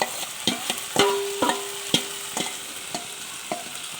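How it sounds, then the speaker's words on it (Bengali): Marinated soybean chunks stirred and fried in spiced oil in a pan, with a steady sizzle and repeated sharp scrapes of a spatula at a regular pace, close and clear with no talking. "দিয়ে এবার নাড়তে থাকবো, ভালো করে নাড়তে থাকবো, ভালো করে কষবো।"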